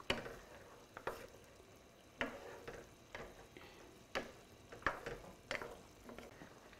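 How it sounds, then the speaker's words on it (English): Mushrooms cooking in a pan for a tomato sauce over low heat, a faint quiet sizzle punctuated by a series of irregular sharp clicks and scrapes of stirring, about a dozen taps, with no talking. "Now, they gotta cook the mushroom."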